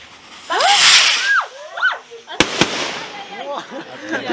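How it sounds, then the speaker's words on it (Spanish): Firework rockets at the eve-night festival in honor of the Niño Jesús de Pichos whistle in rising and falling arcs, then two sharp, loud bangs crack close by, with voices calling out around them. "Vamos a reventar cohetes."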